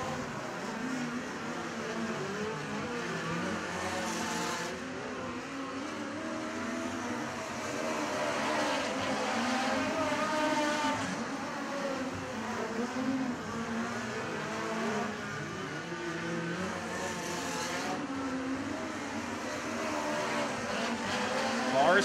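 USAC midget race cars roar out of turn four at Jefferson County Speedway, a continuous loud engine drone that swells and fades as they pass, with a race announcer's voice talking over it.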